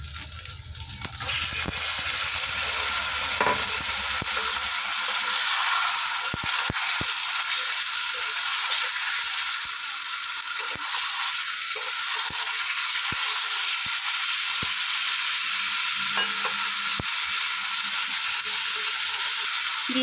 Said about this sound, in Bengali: এবার চিকেনগুলো দিয়ে দেব।